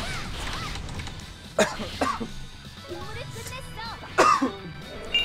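Several sharp coughs break out over an ongoing background of talk and Elsword game sounds, close to the microphone.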